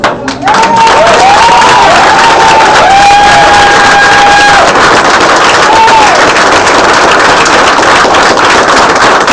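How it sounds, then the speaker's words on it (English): A crowd at a political party gathering applauds and cheers loudly and continuously, with a few whistles cutting through the dense clapping. "Let's make the round of applause indicate how much we're all ready to work"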